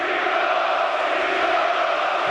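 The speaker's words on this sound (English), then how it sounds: "the home crowd getting behind their side" A home football crowd at a Premier League stadium in Brighton, a steady loud roar of massed voices cheering and chanting without break for a couple of seconds.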